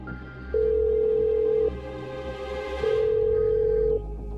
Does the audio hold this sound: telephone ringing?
yes